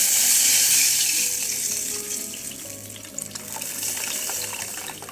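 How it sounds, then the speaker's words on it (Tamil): Tamarind water pours steadily into a pan for village-style fish curry with a loud, rushing splash that gradually eases, over a faint background sizzle. "இப்போ புளி கரைச்ச தண்ணியையும் ஊற்றிடணும்"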